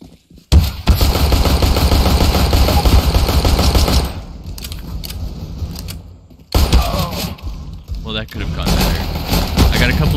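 Rapid automatic gunfire from a CSGO match, loud and sustained for several seconds, breaking off, then resuming in shorter bursts, with someone talking over parts of it.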